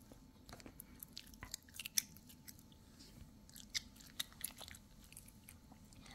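Close, quiet candy chewing, with soft crunches and sharp crisp bites scattered over several seconds against a hushed background, with no talk.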